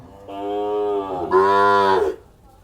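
A cow moos twice at a rural cattle market in Tak, Thailand, a loud, close, drawn-out low call that rises into a stronger second bellow before cutting off.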